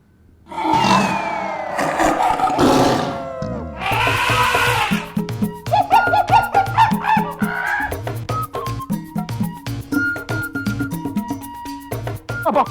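Lion, cheetah and elephant sounds: a loud, close animal roar and calls open the passage, then give way to a run of sharp, tonal cries and trumpeting, with no talk.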